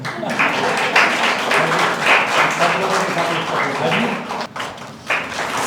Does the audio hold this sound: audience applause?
yes